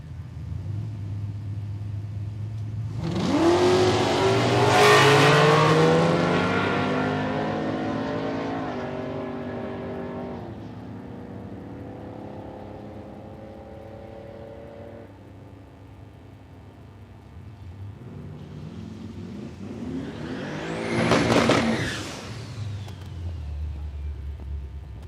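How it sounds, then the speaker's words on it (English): A turbocharged Camaro drag racing at Palmyra Raceway roars loudly past, its engine note climbing through the gears, then fading before a second loud pass with a rising whine near the end. "This Camaro, you could hear it up on the wastegate there."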